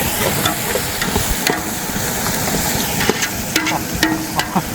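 Tuna sukka masala frying over high heat in a pan with ginger paste, being stirred; steady close sizzle with scraping stir strokes and small clinks throughout, no talking.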